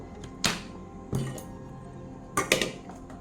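A cooking pot being set out for pot kebab gives a few sharp clinks and knocks, in scattered bursts, close and fairly quiet, with no talking.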